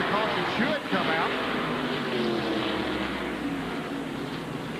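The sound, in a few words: stock car engine roaring on the racetrack, ARCA race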